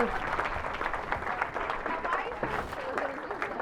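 Wedding guests break into a round of applause at a reception during the speeches, a dense burst of clapping that swells and holds steady, with voices mixed in under it.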